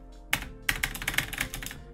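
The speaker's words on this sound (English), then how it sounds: "we're gonna pull off this entire bottom row, replace it with the original keys" Keycaps are clicked and snapped onto a gaming keyboard's bottom row while it is fitted with replacement keys, giving a quick series of sharp plastic clacks, close and distinct.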